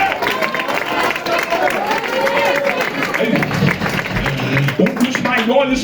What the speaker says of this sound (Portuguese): Se você crê, bate palma.